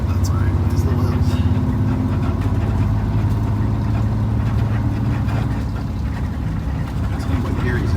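An old truck engine labors and lugs up small hills in too high a gear, a loud, steady low rumble from inside the cab.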